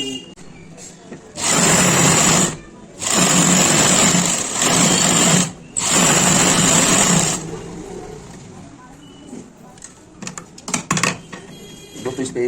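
Sewing machine stitching a trouser pocket, running in several loud sustained bursts with short pauses between, then stopping as quieter handling noises and faint talk follow.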